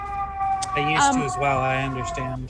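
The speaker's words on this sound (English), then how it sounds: "Oh, sorry for the siren." Fire station siren wailing outside near a home, loud rising and falling tones sweeping through the whole stretch while a person talks over it.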